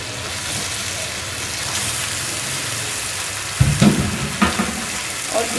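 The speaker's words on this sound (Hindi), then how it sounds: "इसको मैं मसाले के साथ सिर्फ 2 से 3 मिनट तक भूनूंगी" Desi rohu fish sizzling in hot masala in a pan, a steady dense frying hiss with a few louder crackles and stirring bumps near the end.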